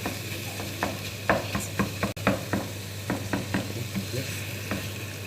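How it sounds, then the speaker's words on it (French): Spices and tomato paste being stirred in a sizzling pan for alinazik kebab, with a steady fry and repeated scraping, tapping strokes of a utensil against the pan, close and clear, with no one talking. "Et je vais venir bien mélanger ensemble."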